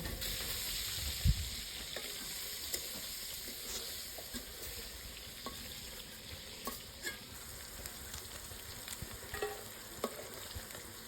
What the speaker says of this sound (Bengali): এবার চিংড়ি মাছগুলোকে হালকা করে ভেজে তুলে রাখবো।